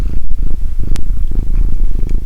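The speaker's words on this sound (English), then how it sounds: "And here's the cat coming." A cat purring loudly and close by in a home, a steady low rumbling purr with a brief higher click partway through, alone with no talk.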